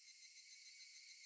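A steady, shrill insect drone of cicadas in the visual novel Higurashi When They Cry, continuous and high-pitched with a faint pulsing rhythm, fairly soft and alone.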